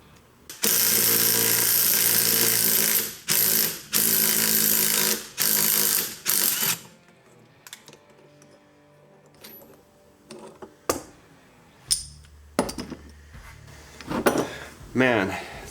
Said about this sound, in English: I'm gonna go ahead and set the puller on this and see if I can pull it out.